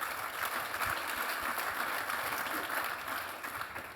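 An audience at a live cycling talk event applauds, a continuous, fairly distant wash of many hands clapping at an even level and fading slightly toward the end, with no talk over it.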